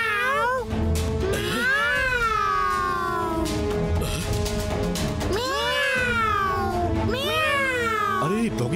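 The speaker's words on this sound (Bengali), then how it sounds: "মিয়াও মিয়াও ডেকে আমি তোমাদের কাছে টানি" Cartoon cats meow loudly and close up in a series of long, rising and falling cries. Two bursts of calls overlap one another, with a brief lull between them.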